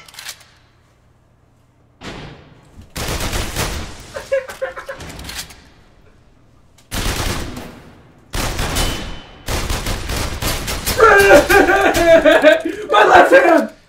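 Gunfire in a VR shooting game, with bursts of rapid shots and sharp blasts in several spurts separated by pauses, loud and close, with a person's voice and laughter mixed in.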